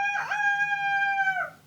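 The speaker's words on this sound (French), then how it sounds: "le vétérinaire pense que c'est un coq." A young chicken, thought to be a rooster, lets out a single loud, close crow that holds steady and then drops away at the end, with nothing else heard.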